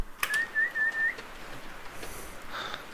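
Someone outdoors in the Canadian Rockies whistles a short, clear, wavering phrase of about a second, fairly close, followed by quiet wind and faint rustling.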